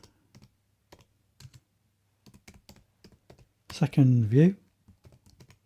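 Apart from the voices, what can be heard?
typing code on computer keyboard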